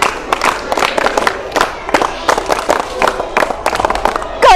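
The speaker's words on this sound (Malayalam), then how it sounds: "ഞാൻ ക്ലാപ്പ് ചെയ്യാൻ പറഞ്ഞു, പക്ഷെ അവർ ഈടത്തിലും താളത്തിലും ക്ലാപ്പ് ചെയ്തു." A group of school children at a school program clap together in a quick, loud rhythm, with crowd cheers and shouts mixed into the claps.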